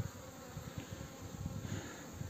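Bees fly around a forest apiary on a warm day, a steady low buzzing hum with individual insects droning past the microphone at close range, no voices.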